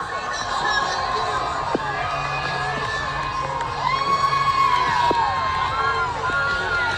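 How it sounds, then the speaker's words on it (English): A concert crowd screams and cheers as a singer falls on stage. The roar is loud and sustained, with shrill voices rising above it and a brief sharp burst near the middle. "You can even hear people in the crowd scream that she fell"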